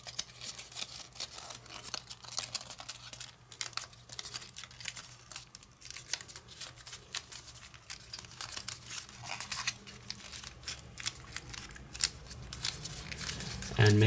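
Paper flaps being folded and creased by hand for an origami propeller, a quiet continuous crinkling and rustling close to the listener.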